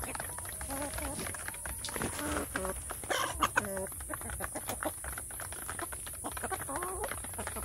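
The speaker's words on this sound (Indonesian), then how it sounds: "ini ayam kampung saya ada di tempat umbaran" Free-range village chickens cluck and chatter continuously in an open outdoor run, several birds calling close by over a constant background hiss.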